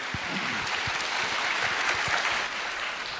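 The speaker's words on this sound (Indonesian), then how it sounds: "Sekali lagi tepuk tangan yang meriah untuk Pak Ganjar" At a university gathering at UNPAR, an audience gives steady, lively applause for Pak Ganjar. The dense clapping holds at an even level for a few seconds with no talk over it.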